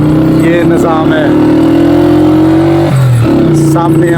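A motorcycle rides a road near Abbottabad toward Thandiani, its engine humming loud and steady with a brief dip in pitch, while riders talk over it.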